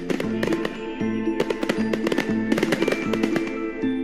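Fireworks go off in a celebration for the feast of Our Lady of Guadalupe, with a rapid, loud run of sharp bangs and crackles that repeats steadily over a few seconds.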